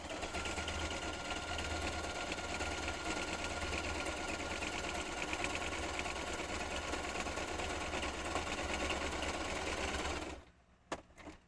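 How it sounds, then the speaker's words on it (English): A sewing machine stitches through Christmas paper for scrapbooking in a fast, steady, close mechanical whir lasting about ten seconds, then stops, leaving a few faint clicks. "Who's gonna be sewing Christmas paper this year?"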